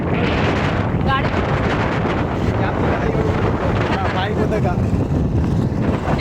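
Strong wind buffets a microphone outdoors beside a lake. It makes a continuous loud, rough rumble that fills the whole stretch.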